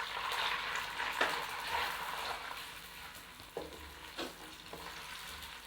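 Onion fries in ghee in a pan, a soft steady sizzle broken by a few clinks and scrapes of stirring, with no voice.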